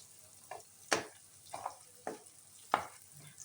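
Onions fry in hot oil for a Tenali-style fish curry, with a faint steady sizzle broken by several sharp scraping stirs of the pan at uneven intervals.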